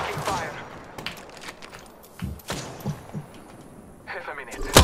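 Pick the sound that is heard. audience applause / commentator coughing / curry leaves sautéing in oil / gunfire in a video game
gunfire in a video game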